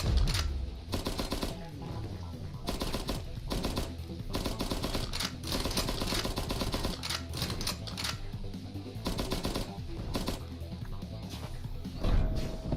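Rapid gunfire in the game Cavalry Girls, dense bursts of crackling shots repeating throughout, loud and close over a busy game soundtrack.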